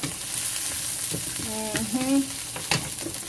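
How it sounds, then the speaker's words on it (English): Steady crackling sizzle of garlic frying in a pan, with a brief clatter of a utensil stirring partway through. "let that cook and sizzle"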